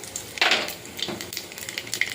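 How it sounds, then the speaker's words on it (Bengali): Black cumin seeds sizzling in hot oil in a wok, a brief burst of crackling frying with a few light stirring taps, close and moderately loud. "কড়াইতে তেল দিয়ে দিয়েছি, তেলটা গরম হয়ে গেছে। এবারে ফোড়নে কালো জিরে দিয়ে দেবো"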